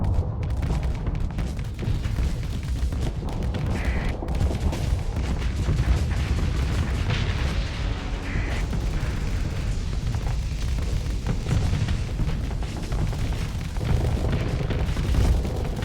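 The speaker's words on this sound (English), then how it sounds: "That was a good torpedo." Torpedoes explode in the space combat game Starsector with the Nexerelin mod, booming repeatedly over a dense, rumbling battle din of blasts and weapon fire, loud and continuous with no speech.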